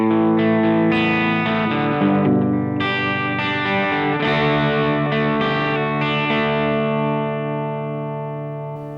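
Electric guitar on its bridge pickup played through a Rothwell Tornado overdrive pedal, ringing out distorted chords and notes in a loose strummed phrase that sustain and slowly fade toward the end, loud and alone.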